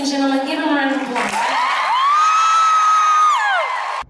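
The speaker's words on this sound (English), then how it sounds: "Give him a round of applause." Live audience cheering and whooping, loud and close, with one high voice holding a long rising whoop over the crowd noise before it cuts off.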